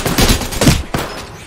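Rapid bursts of gunfire in the battle royale shooter Apex Legends, loud and close, with a short pause near the end before the shots resume.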